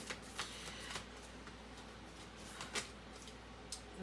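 Soft, quiet shuffling of tarot and oracle cards, with several light riffling bursts and taps spread irregularly across the clip in a still room.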